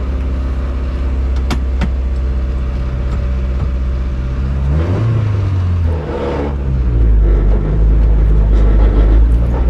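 A 1988 Honda CRX Si with a B16A engine and fresh spherical suspension bushings drives a track, a loud in-cabin engine drone, revving and shifting with a pitch sweep midway before climbing again.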